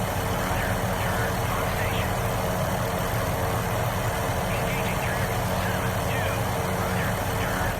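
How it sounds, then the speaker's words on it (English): A helicopter flies in the naval combat video game Sea Power, heard as a steady, dense engine and rotor drone that holds at a constant level throughout, with no voices. "Yeah, that's just our normal helicopter there."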